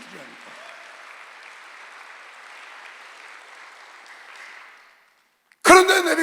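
A church congregation clapping during a Sunday worship service, a steady, moderate patter of many hands that fades out near the end before a louder burst cuts in.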